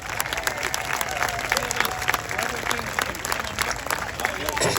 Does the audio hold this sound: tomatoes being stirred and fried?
no